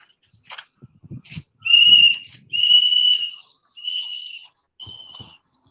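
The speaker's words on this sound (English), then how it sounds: "that whistle's loud" Several loud, shrill whistle blasts, two long and two shorter, follow a few soft knocks and scuffs nearby.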